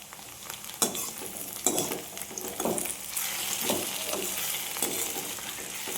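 Onions sautéing in a pan for okra tamarind kuzhambu: a steady, close sizzle with repeated scraping stirs, quiet and with no talking.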